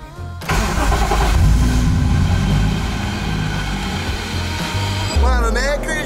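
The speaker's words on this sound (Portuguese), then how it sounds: "Bora que eu vou acelerando esse Skyline." A Nissan Skyline R34 engine revs and accelerates loudly and close, a steady dense roar holding through most of the stretch with a brief surge near the end.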